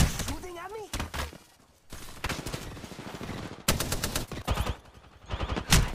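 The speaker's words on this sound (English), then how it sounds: "Shooting at me?" Gunfire in the Apex Legends video game comes in dense bursts of rapid shots separated by short lulls, close and loud, with a player's voice talking over the opening.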